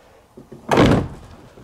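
A single heavy door thuds shut with a loud, sharp bang after a few faint shuffling knocks, then quiet.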